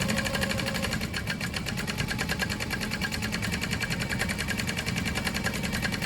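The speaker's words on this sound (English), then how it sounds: "Baste all along. You want to use a pretty long stitch length so you don't waste time." A sewing machine runs continuously on long basting stitches while a crossbody bag is made, a steady fast mechanical chatter and hum held at an even level throughout, close by with no talk.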